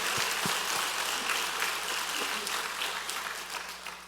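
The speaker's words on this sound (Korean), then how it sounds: "우리 하나님께 큰 박수 합시다" A church congregation at a Korean Sunday service applauds in a dense, fairly soft wash of clapping that gradually fades.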